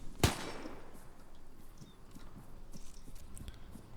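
A single sharp gunshot from a WW2-era weapon in Arma 3 cracks loud near the start, then trails into a quieter ambient bed with faint distant pops.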